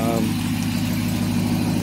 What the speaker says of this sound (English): I believe it's a factory exhaust.